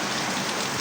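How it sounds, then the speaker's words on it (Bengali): Rain falls outside in a dense, even downpour, a loud continuous hiss with no pauses. "বাইরে কত বৃষ্টি হইতেছে"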